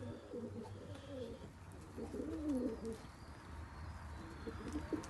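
Pigeons coo nearby in low, throaty warbling phrases, with faint chirps and rustling in the background.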